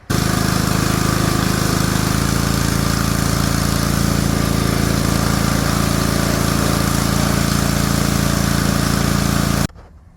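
A John Deere Sabre lawn tractor engine idles after sitting unused for a decade, a loud, steady, close-up mechanical drone that runs unbroken for about ten seconds before cutting off abruptly.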